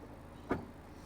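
A 2025 BMW 228 xDrive Gran Coupe's manual tailgate, opened by a kick sensor, gives a single short muffled thunk as it unlatches and pops up, alone against a quiet background.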